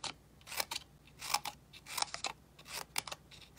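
Scissors snip paper into strands of Easter basket grass, a quick series of close, crisp cuts in irregular bursts against a quiet background.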